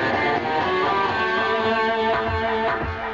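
Guitar playing a harmonic minor scale with notes crammed together, slightly distorted and sustained, forming a thick, continuous ringing texture heard alone.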